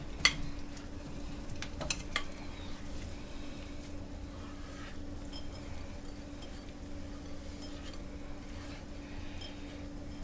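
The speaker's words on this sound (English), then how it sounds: "put them in the pressure cooker to saute them with the onions" Tomatoes sautéing with onions in a pressure cooker, a low steady sizzle with a few sharp clinks of a utensil against the pot near the start.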